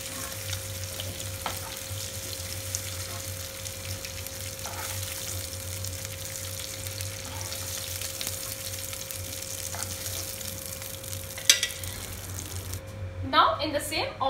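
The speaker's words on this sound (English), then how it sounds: "Let them fry for a while." Paneer pieces frying in oil, a faint, steady low sizzle running throughout, with a few brief clinks and a small clatter toward the end.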